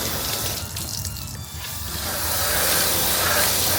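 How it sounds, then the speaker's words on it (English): Water sprays steadily onto an Audi S4 for a rinse, a loud continuous hiss and splash that swells louder partway through, close by and with no talking. "First, I'm gonna wash it a little bit with water."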